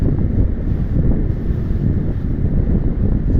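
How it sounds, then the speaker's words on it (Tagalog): Heavy, continuous roar of rough sea at Cobra Reef in Baler during Typhoon Bavi, with wind buffeting the microphone, a dense low rumble of surging waves throughout. "Ayun yung Cobra Reef, malalakas din ang alon."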